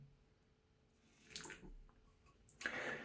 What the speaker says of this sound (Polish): Jeszcze trochę wody.